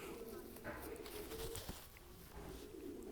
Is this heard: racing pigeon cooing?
yes